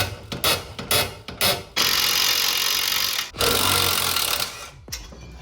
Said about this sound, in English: Next, I need to remove this bracket to take the rotor off, and those are two 19 millimeter bolts at the back.